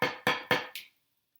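Four crisp, evenly spaced taps on a practice pad, close and dry, each ringing briefly before the next.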